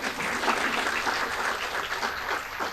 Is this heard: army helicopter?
no